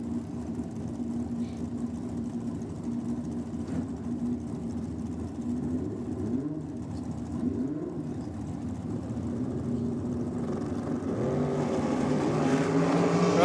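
Drag racing cars at a state championship meet run down the strip, a continuous engine roar that swells steadily louder toward the end as the cars approach, with no talk over it.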